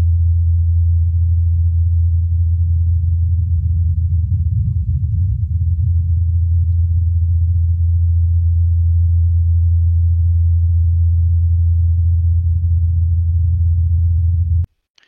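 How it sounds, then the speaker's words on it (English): Ingenuity, the Mars helicopter, returning and landing at its starting spot as picked up by the rover's microphone: a steady low droning hum from the rotors that holds for about fifteen seconds, then cuts off abruptly near the end. "You can hear Ingenuity coming back here and landing back in its starting spot."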